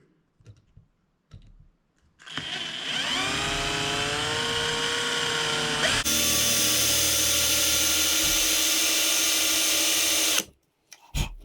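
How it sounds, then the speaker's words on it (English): A small drill bit bores through a Spro Freestyle Xtender fishing net handle indoors, a steady whine starting after a couple of seconds of quiet handling, shifting pitch midway, then stopping abruptly near the end. "Take your time with a small drill."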